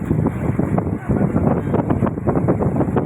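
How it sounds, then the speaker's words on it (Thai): Strong wind buffets the microphone in steady loud gusts on an outdoor waterside trip, likely from a boat, with broadband roar throughout and a brief lull near one second. "เปลี่ยนลมหนาวมาเปลี่ยนเป็นลมนู้นลมนี้ไม่หยุด"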